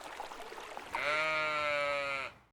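A sheep bleats in one long, loud, sustained call lasting over a second, heard close after a stretch of quiet outdoor background, recorded where cameras were mounted on sheep to map islands.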